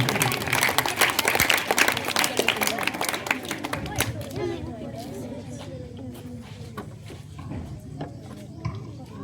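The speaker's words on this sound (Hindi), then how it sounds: "इस बच्ची के लिए जोरदार तालियां होनी चाहिए।" An audience at a school block-level debate competition claps loudly for a young student called to the stage, the applause strong at first, then thinning out with scattered claps and some voices.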